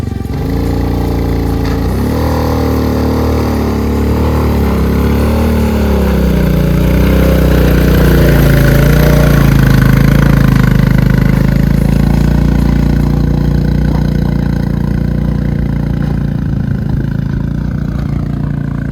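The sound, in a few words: vehicle engine driving on mountain road to Om Parvat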